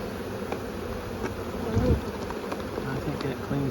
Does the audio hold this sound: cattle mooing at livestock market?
no